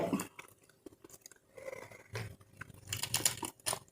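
A boiled duck egg is chewed close to the mic, with soft moist mastication and brief crunchy bites coming in irregular bursts between short pauses.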